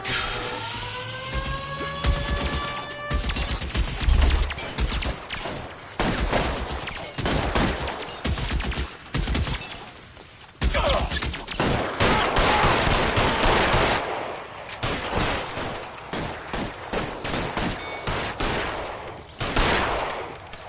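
Rapid bursts of gunfire crackle through a shootout in the video game L.A. Noire, loud repeated shots and automatic volleys coming in dense clusters with short pauses, almost no talk.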